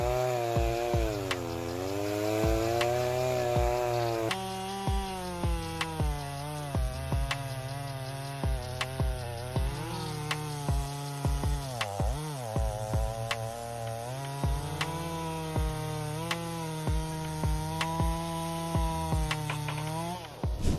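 A top-handle chainsaw runs steadily while cutting big wood, its engine pitch rising and falling under load, with short clicks and knocks scattered throughout; loud and close.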